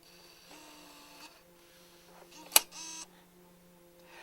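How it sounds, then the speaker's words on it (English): A Canon XL1 camcorder's tape mechanism ejects with a quiet whir and motor hum, then a sharp click and a short mechanical rattle near the middle, followed by a brief second whir before it settles into faint hum. "with the rest of the camera turned off, we managed to get the mechanism to eject."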